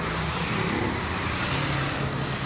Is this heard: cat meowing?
no